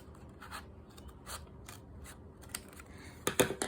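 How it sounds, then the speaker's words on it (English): Scissors cut along the folded crease of an index card at close range, making quiet snipping and rustling sounds that end in a sharper, louder snip. "I'm going to use my scissors to cut along this line."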